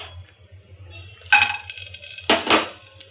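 Dry fruits dropped into melted ghee in a pan while making payasa, giving two bursts of clinking and rattling against the metal pan with brief stirring scrapes, moderately close, over a quiet low hum.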